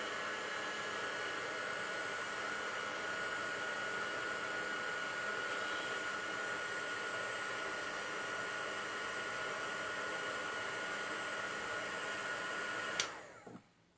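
A heat gun blows hot air onto embossing powder, a loud, constant close-up whoosh that runs unbroken for most of the clip and then cuts off near the end with a click and a brief rattle.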